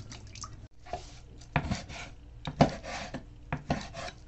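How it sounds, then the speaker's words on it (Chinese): A knife cuts soaked raw beef into small pieces on a cutting board in a home kitchen, giving about four distinct, evenly spaced strokes roughly a second apart, close up and moderately quiet. "先把牛肉切成小块儿"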